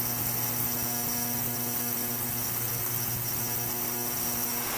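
Ultrasonic cleaner running steadily in a workshop: a constant, even high-pitched whine with electrical buzz, close and unbroken throughout, with no voices.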